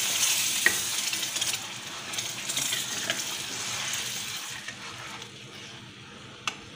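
Semolina halwa with water and yellow colouring is stirred in a pan over low heat, a soft wet scraping and sizzle with a few sharp spoon clinks against the metal, no voices.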